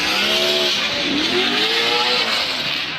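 A Eurofighter-liveried BMW drift car slides loose through a Formula Drift qualifying run in New Jersey, with a loud, sustained engine roar. Tire squeal and rising-and-falling revs come through under it, and nobody speaks.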